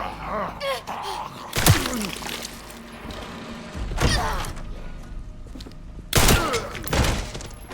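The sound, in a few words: gunshots in video game Resident Evil Requiem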